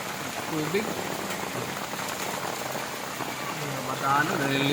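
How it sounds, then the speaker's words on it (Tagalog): Heavy rain pours steadily onto surfaces and floodwater in a dense, continuous hiss, with faint voices murmuring now and then beneath the downpour. "Lakas na talaga ng ulan."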